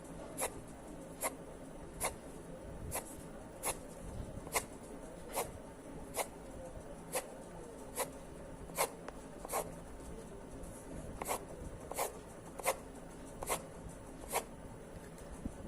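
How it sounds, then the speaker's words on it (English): A broad, thick pencil flicks quick grass strokes across paper, producing sharp, regular scratching swishes about once a second, close and clear over a quiet room. "For making grass texture, we will use the broad pencil, okay, thicker pencil"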